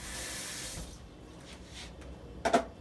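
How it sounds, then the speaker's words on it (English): Water is poured into a country gravy mix, a broad wash of running liquid for the first second, then a short brighter splash near the end, fairly quiet with no talking. "we're going to add a little bit of water to the mix"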